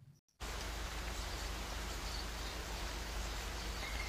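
Steady, even hiss of falling rain that starts abruptly after a brief silent gap and continues loud and unbroken throughout, with no voices.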